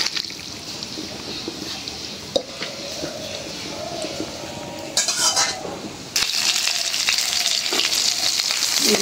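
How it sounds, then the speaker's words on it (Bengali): Fish sizzles and crackles as it fries crispy in a pan, a loud continuous hiss broken by utensil scrapes and clinks, growing more intense partway through. "এই যে মাছটা একটু কড়া করে ভাজতেছি, ভাজা মাছ।"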